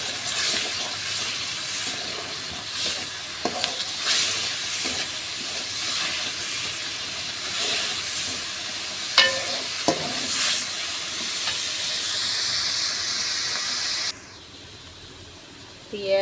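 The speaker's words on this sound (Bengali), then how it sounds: "চুলায় কড়াই বসিয়ে পেঁয়াজ রসুন বাটা তেল দিয়ে দিয়েছি" Onion and garlic paste sizzles in oil in a wok on a stove for a koi fish and bean curry, a continuous close hiss with occasional stirring scrapes, then a sudden drop near the end.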